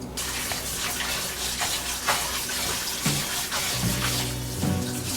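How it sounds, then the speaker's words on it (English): Cut calamari rinsed under a running kitchen tap, a steady broadband water flow splashing over the seafood with small clatters and shifts as the pieces are handled, close and continuous with no talk. "we're just gonna give it a little rinse under the water"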